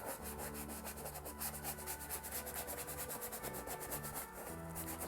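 Brush scrubbing paint into a collaged shoreline painting to soften background branches, a steady close rasping rub that repeats in quick strokes, alone with no talk.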